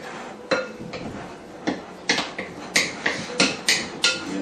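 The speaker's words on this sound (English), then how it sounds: "And I'm scraping the bowl here." Metal or utensil scraping and knocking against a bowl while hot curd is kneaded into cheese, a series of sharp clinks and scrapes in an irregular rhythm, close and fairly loud, with no talking.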